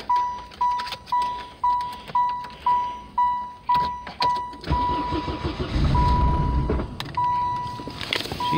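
A cold Saturn SW2 engine is started with repeated cranking, a rhythmic whirring sequence of about ten pulses under a steady warning chime, then catches and settles into a rough, rich-running idle with some revving.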